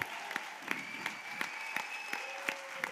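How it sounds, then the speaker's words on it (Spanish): Quiet applause from an audience at a school music contest, a soft wash of clapping punctuated by evenly spaced louder claps, with a faint sustained tone running beneath. "Un aplauso para todos eles e elas"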